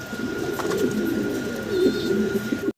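Several fancy pigeons coo in low, throaty, overlapping rolls close by, continuous throughout, with a faint background hum.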